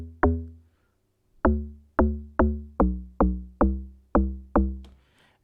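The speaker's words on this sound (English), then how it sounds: "And then the second log drum sounds like this." A second amapiano log drum programmed in FL Studio, eight punchy pitched hits with a booming low body and fast decay, a pause after the first, then an even rhythm, loud and alone.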